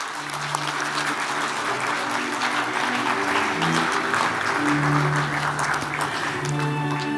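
A large audience at an award ceremony gives sustained, steady applause that fills the room at close range, with faint voices underneath.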